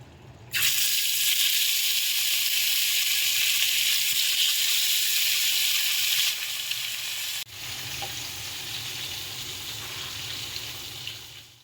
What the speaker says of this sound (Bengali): মাটনটা এবার দিই প্রেশার কুকারে